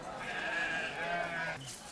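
A lamb at a sheep and goat market lets out a single drawn-out bleat, close by and clear.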